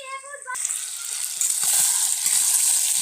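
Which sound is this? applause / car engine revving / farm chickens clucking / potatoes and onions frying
potatoes and onions frying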